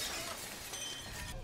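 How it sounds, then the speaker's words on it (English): A glass window shatters as a man crashes through it in a film scene, producing a dense, bright burst of breaking glass that fills the whole moment at low volume. "And here he's crashing through another window."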